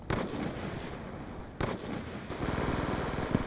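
Scorpion submachine gun fire in Call of Duty Black Ops 2 multiplayer: loud, sustained rapid automatic bursts that fill the whole stretch, with a brief break partway and a dense crackling rattle toward the end.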